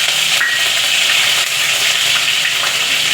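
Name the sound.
green chillies sizzling in hot oil tempering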